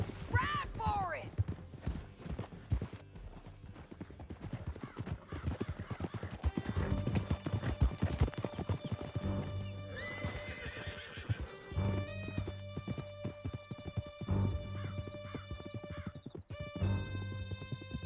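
Horses gallop through a canyon in Red Dead Redemption 2, a loud rhythmic clatter of hooves with repeated neighs and whinnies, while voices call out over the ride and a musical score swells underneath.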